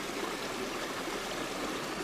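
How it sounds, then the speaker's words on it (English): Small rainforest waterfall rushing steadily, a close, constant broadband splash and trickle of water with no pauses. "A little waterfall."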